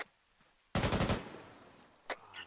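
Gunfire in a Chernobyl horror operation video game: a sharp burst of rapid automatic shots, loud and close, trailing into a reverberant tail, followed by a fainter short crack and a quiet voice.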